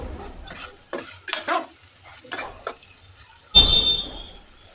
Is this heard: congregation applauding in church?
no